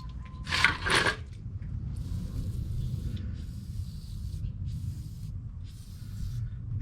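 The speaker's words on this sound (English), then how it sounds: "Shoot some penetrating oil." Penetrating oil sprays from an aerosol can into the bolt holes of a rusted brake rotor hub on a 1998 Toyota Tacoma SR5 4x4, a short loud hiss near the start followed by steady softer spraying and handling noise.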